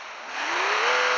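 Dodge engine in the driving game Car Simulator 2 heard from outside, revving up with a rising, harsh, loud mid-pitched roar that holds steady near the end.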